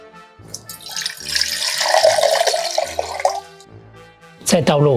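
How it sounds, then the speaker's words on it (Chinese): Cold water pouring steadily into a basin or measuring cup, a continuous splashing rush lasting a few seconds close by, with a voice speaking at the end. "先在脸盆或量杯内倒入冷水400cc"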